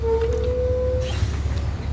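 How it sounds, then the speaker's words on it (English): Squeaky brakes of a Volvo B7TL Plaxton President bus in Transdev Keighley service, a single sustained high squeal for about a second over a low engine rumble that carries on after the squeal stops. "Squeaky brakes."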